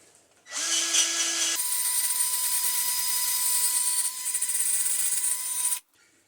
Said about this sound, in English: So this is the fine brush. on a cordless drill.